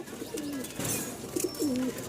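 Pigeons coo softly nearby in a few short, throaty bursts while the birds are busy feeding.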